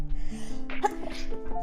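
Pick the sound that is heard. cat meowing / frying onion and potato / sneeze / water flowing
sneeze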